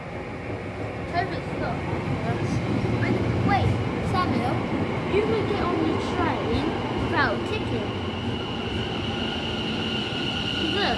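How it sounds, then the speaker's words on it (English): A train arrives at South Woodham Ferrers station, rumbling close by with metallic squeals and clatter of wheels on rails, steady and loud throughout, with faint voices mixed in. "So quickly, here is our train."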